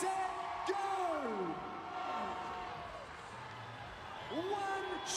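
Crowd at a CrossFit semifinal event cheering and yelling, with whoops and rising shouts across a steady roar of voices, loud and close throughout.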